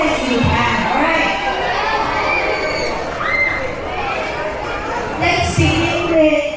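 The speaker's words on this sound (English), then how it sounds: "now I want each house to cheer for your participants as loud as you can" Students at a school sports day cheer and shout for house contestants, a loud, sustained crowd roar with children's voices rising and falling, swelling again near the end.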